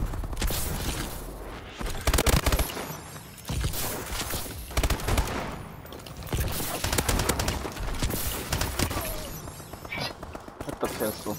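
Pistol fire rattles out in Call of Duty Advanced Warfare, with rapid, sharp bursts of shots and some mechanical clatter in quick repeated clusters, loud and close throughout.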